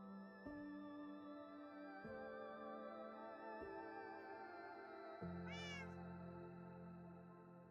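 Several meows from a cat in the Minecraft video game, spaced a second or two apart over steady background game music, with a brief rising chirpy sound near the end.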